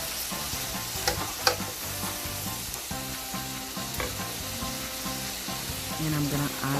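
Food fries in a pan as spices are stirred in, giving a steady dense sizzle with occasional scraping and clinks from the utensil, close and unbroken by speech.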